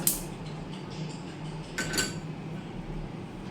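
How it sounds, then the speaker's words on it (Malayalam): A small pan set down on a kitchen stove, a sharp metallic clink at the start and another short clatter a couple of seconds later over faint background hum. "ഇപ്പം നമ്മുടെ കുഞ്ഞി പാൻ വെച്ചിട്ടുണ്ട്"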